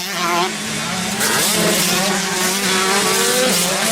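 125cc motocross bikes, KTM and Husqvarna among them, race past at a school championship, their engines screaming loud and close with rising and falling revs as they pass, while a commentator talks over them.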